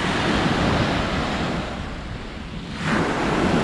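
Ocean surf breaking on a wild beach in Greece, a steady broadband roar of waves washing in that eases slightly midway then swells again, loud and close with no voices.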